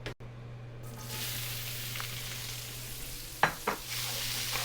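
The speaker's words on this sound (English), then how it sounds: "now I want to put in a little ghee. So just a touch. And then I want to put in my onions" Onions frying in a little ghee in a pan, a steady close sizzle with a couple of brief utensil clinks partway through.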